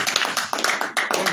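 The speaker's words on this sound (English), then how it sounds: "So, please another applause for Dr." An audience at the opening session of a diaspora conference in Amsterdam claps in a dense, continuous patter of close, moderately loud applause with a few brief dips.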